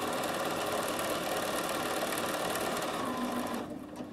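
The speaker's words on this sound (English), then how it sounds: "I'm going to keep sewing, and I'm not going to do anything until my machine stops." A Bernina 7 Series sewing machine stitches a buttonhole, its steady, close mechanical whir running continuously without talk before dropping off near the end.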